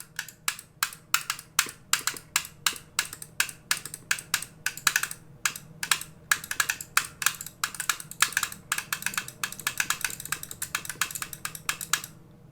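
Rapid, crisp plastic clicks from a SteelSeries Aerox 3 wired gaming mouse button repeat in quick irregular bursts for several seconds, close and fairly quiet with no talking.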